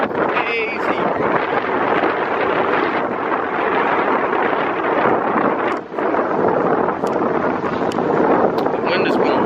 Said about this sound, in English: The wind is blowing mad crazy.